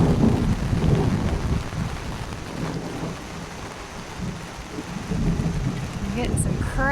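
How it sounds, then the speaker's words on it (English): Thunderstorm in Alice Springs in October: steady heavy rain hiss with low rolling rumbles of thunder swelling near the start and end, broad and continuous with no talk. "I'm getting some cracking thunder."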